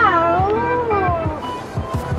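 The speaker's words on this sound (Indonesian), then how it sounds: "Kucing anjing rantem tuh bro." A cat yowls in long, wavering drawn-out cries during a cat-and-dog scuffle, with soft low thumps underneath; no dog is clearly audible.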